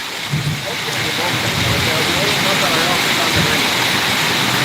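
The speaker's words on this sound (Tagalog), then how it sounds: "lakas ng ulan dito" Heavy rain pours steadily in Kuwait, a dense continuous hiss of downpour filling the scene at full loudness, with a voice speaking briefly near the start.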